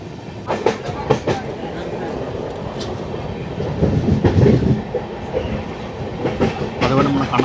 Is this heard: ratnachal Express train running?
yes